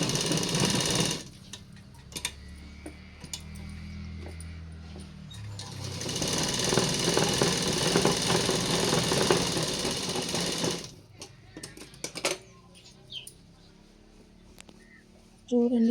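Sewing machine stitching a Punjabi dress top, a steady mechanical whirr running in bursts with pauses between seams, the needle's rapid rhythmic clatter up close, plus brief clicks and handling noises.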